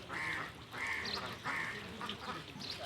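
Ducks quack in repeated bursts beside a rain-filled canal, close and loud, with a steady outdoor background hum between calls.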